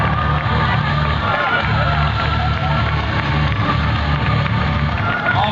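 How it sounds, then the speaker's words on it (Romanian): A large outdoor crowd at a night air show cheers and applauds steadily, with dense, continuous whooping and clapping that holds at a loud, even level throughout. "Haideți să-i aplaudăm pe final!"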